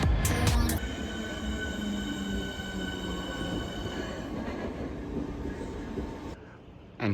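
A rare Thameslink train pulls into a station, loud rumbling with wheel squeal and ringing tonal whine that gradually fades, a few sharp clunks at the start and the sound dropping away near the end, no talking.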